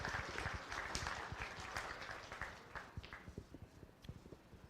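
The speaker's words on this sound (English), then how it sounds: "Let's give them a nice round of applause." An audience at a county fair beef show claps steadily, a dense round of applause that thins into scattered individual claps toward the end.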